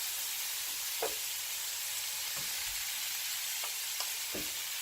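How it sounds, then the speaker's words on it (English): Cooked rice stir-frying in a hot pan for pork fried rice, a steady loud sizzle with occasional knocks of a spatula scraping and tossing the grains. "Go ahead and throw in our rice."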